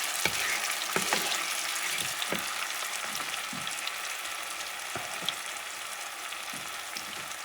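Tomato sauce sizzling in a pan over medium heat, a steady close frying hiss with scattered pops and a few stirring clicks, no voices.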